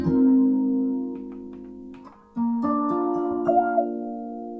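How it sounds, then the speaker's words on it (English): A sustained tone from an electronic harp-guitar runs through a flanger effect on a mid-range multi-effects pedal, its notes shifting and swelling with a faint sweeping shimmer. "Or a flanger is another classic."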